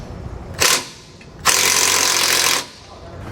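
Impact gun snugging down bolts on SumoSprings helper springs of a 2018 Tiffin Allegro motorhome: a short rattling burst, a pause, then a longer loud hammering run of about a second, close by.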